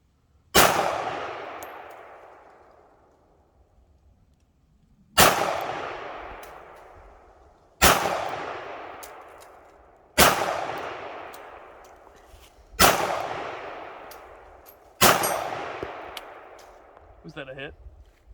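A Ruger LCP .380 pistol is fired six times from a distance, each sharp crack ringing out and decaying over about a second, with irregular gaps of two to five seconds between shots.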